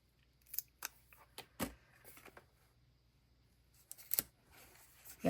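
Scissors trimming small paper flower pieces for a Dutch door craft build, a series of sharp, close snips with irregular spacing and quiet pauses between cuts.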